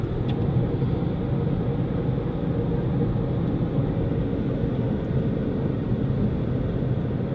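A car drives along a fast track on an overcast day, giving a steady low road rumble and engine drone that holds at the same level throughout with no voices.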